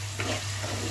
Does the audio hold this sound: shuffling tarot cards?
no